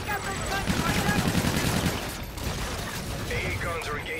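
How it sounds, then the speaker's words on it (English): Anti-aircraft guns fire in a Call of Duty: Infinite Warfare battle, a dense rattling barrage of rapid shots that runs steadily through the scene amid layered combat noise, with a voice briefly audible in the mix. "AA guns are engaging jackals."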